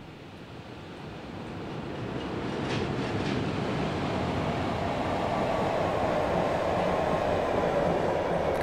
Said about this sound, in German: Regionalexpress nach Koblenz mit 110 Blau-Beige fährt ein